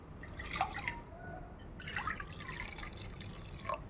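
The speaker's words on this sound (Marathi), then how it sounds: "हे 2 वाट्या पाणी घातलेलं आहे." Two bowlfuls of water go into a mixing bowl for ragi (finger millet) papad batter, giving close, uneven splashing and dripping bursts with a short lull in the middle.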